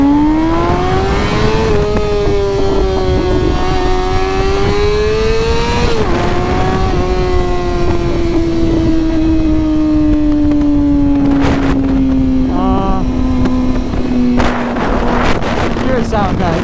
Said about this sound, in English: With this exhaust, it's like you can actually hear it. It revs out.